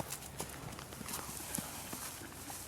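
Horses' hooves clip-clop in irregular, close thuds as the animals shift about at feeding time around their stalls, the steps loud and uneven over a steady background.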